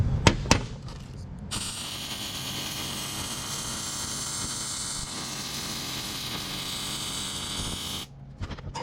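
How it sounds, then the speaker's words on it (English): Metal being fully welded in a workshop, a steady crackling, hissing arc running close and loud for about six and a half seconds after a few sharp clicks, then cutting off. "So I'm gonna fully weld that."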